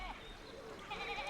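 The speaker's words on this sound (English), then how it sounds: "I love the sheep in the background." Sheep in Pentiment, a medieval-set video game, bleat in the background, a few faint wavering cries blending with soft ambient sound.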